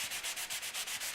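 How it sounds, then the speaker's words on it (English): A sanding sponge with 120 and 80 grit sides rubs over chalk-painted wood in steady back-and-forth strokes, a soft, even scratching rhythm with no voices. "And I'm going to start sanding to illustrate"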